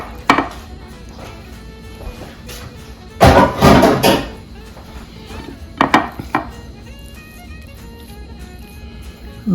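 Peanut butter fudge ladled into a pan: a few sharp clanks and scrapes of a metal utensil against cookware, with one cluster of louder knocks, in a quiet kitchen.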